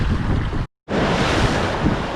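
Ocean waves splash and wash against a boat during late-summer fluke fishing, a loud, steady rush with wind buffeting the microphone, broken by one brief silent gap.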